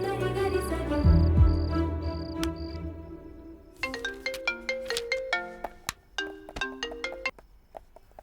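A mobile phone ringtone plays while a call is placed to Ramesh: first a soft repeating beep pattern over a warm tone, then a bright plucked melody of quick, evenly spaced notes, clear and close.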